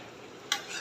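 Silver carp fish and okra are stirred in a frying pan over a soft, steady sizzle, with one brief scraping stir near the end.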